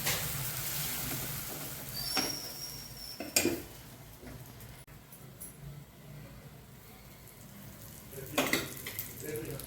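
A crispy dosa roasts on a hot pan with a soft, steady sizzle, and a few sharp metal clinks and scrapes of a utensil against the pan break in now and then.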